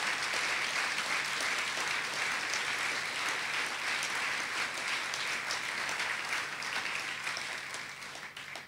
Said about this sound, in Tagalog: Bigyan nga natin na isang malakas na malakas sa palakpak ang Panginoon